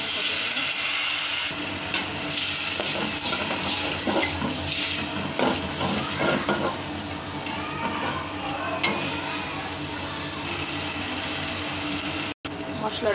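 Ginger-garlic paste with chili, turmeric and coriander powders frying in a pan for a beef and potato curry, a steady sizzle with stirring scrapes and clatter throughout, with background noise mixed in.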